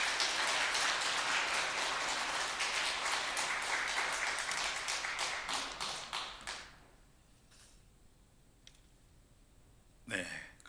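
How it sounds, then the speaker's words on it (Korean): A church congregation bursts into loud, dense applause welcoming the pastor to the pulpit, sustained for about six seconds before fading into scattered claps and room quiet, with one brief rustle near the end. "목사님 나오실 때 한번 크게 한번 박수하겠습니다"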